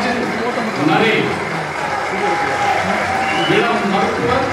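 Audience applauding steadily at a school anniversary ceremony as a young doctor walks up to the stage, a dense even clatter of clapping with crowd murmur and voices underneath throughout.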